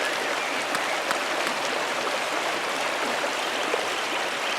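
A waterfall and stream in the Pentiment video game give a steady, dense rushing hiss of falling water, even and continuous throughout with no voices.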